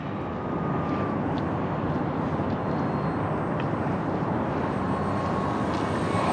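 An E-Flite T-28 Trojan 1.1 m electric RC warbird flies at about half to two-thirds throttle, giving a steady, distant broadband drone that holds evenly throughout with no talk over it.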